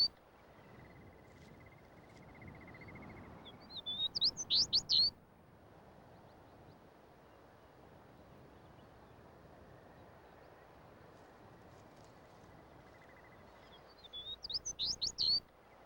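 A Smith's longspur sings two short bursts of bright chirping notes from the tundra, soft and a little distant, over a steady insect-like drone.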